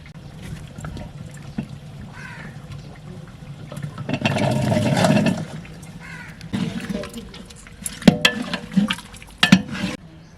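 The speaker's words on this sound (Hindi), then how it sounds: "थोड़ा सा डालेंगे हम इसमें पानी" Water splashes briefly into a large village cooking pot of chicken, potatoes, cauliflower and peas in a close pour of about a second and a half, followed by scattered clinks and knocks.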